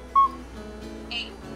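A phone keypad app gives a short electronic dialing tone with a brief beep, heard twice in a quiet room. One tone is sharp and the other softer.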